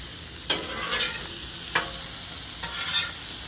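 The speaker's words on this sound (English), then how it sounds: "we'll move them over to the middle here, all the while stirring them up at the same time" Red drum fish pieces frying on a Blackstone griddle under a constant sizzle, with four sharp spatula scrapes as they are stirred and moved toward the middle.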